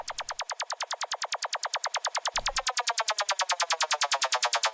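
Dry synth pulses play without delay, a fast, even stream of short bright notes that speeds up slightly partway through, loud and clear with no voices.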